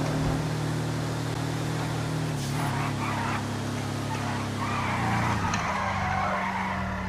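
A customised old car in GTA skids with red tyre smoke, giving a long steady engine drone with tyre screech that shifts pitch midway, continuous and moderately loud.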